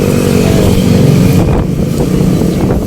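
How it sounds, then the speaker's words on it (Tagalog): A Skygo Monarch Axis 125 motorcycle engine running loud and close after starting, a rough steady idle with slight revving fluctuations, no voices. "Skygo Monarch Axis 125. Papakita ko guys kung paano to i-start"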